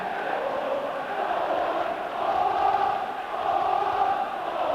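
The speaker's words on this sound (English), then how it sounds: "And the Leeds crowd only too happy to sing 4-1." Leeds United supporters singing in the stands during a 1990–91 match against Chelsea, a distant, sustained massed chant swelling and easing without break.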